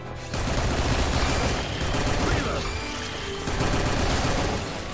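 Sustained rapid gunfire from a fast-firing Shooter alien enemy in the sci-fi shooter Gigantic X, a dense continuous barrage with layered bursts and booms lasting throughout.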